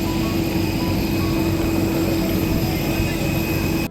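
A passenger airplane departs from Ozamiz airport in the Philippines, its jet engines producing a loud, steady roar with a strong sustained whine heard close by throughout.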